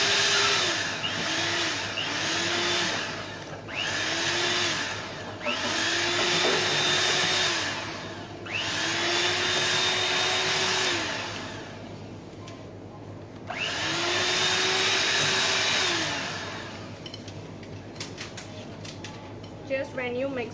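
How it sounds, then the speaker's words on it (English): A mixer grinder pulverises one cup of sugar in loud, close whirring bursts, each running a few seconds. Between them come brief pauses, and the motor pitch sweeps up and down as each run starts and stops. There is a little talk near the end. "Now I'm beating it till it's mixed properly."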